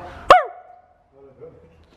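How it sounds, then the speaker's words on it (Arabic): A dog gives one sharp, loud bark close by, followed by a faint whimpering tail and quiet background noise. "احنا نشرح جانا كلب"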